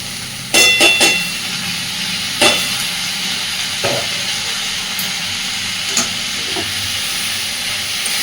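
Potatoes and onions fry in a pan as ripe Malabar spinach fruit goes in, giving a steady close sizzle broken by a few sharp clattering stirs near the start and scattered softer knocks later.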